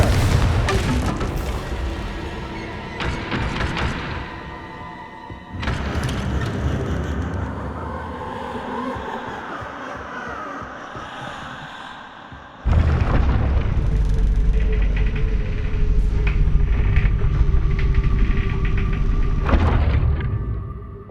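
Spell blasts in Hogwarts Legacy, including the Confringo blasting curse, land as heavy booming explosions in three long rumbling waves separated by abrupt cuts, loud and sustained with crackling debris and no talk.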